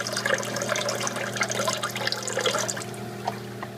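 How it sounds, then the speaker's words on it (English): Water is poured into a 150-gallon aquarium, making a close, continuous splashing and gurgling pour with bubbly trickles that fade slightly toward the end. "you just simply just take the water and pour it in"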